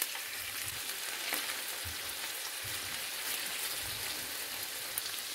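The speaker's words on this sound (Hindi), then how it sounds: "अब हम 2 मिनट के लिए हर तरफ से इनको फ्राई कर लेंगे" Salmon fillets fry in a pan over medium-low heat, giving a continuous close hiss and sizzle with faint soft bumps as the pieces are moved.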